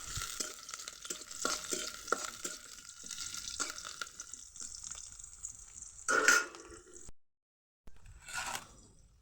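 Onions with a couple of dried red chillies sautéing in oil give a soft, uneven sizzle with scraping stirs, followed by a louder splashy burst near the end, close and quiet, no voices.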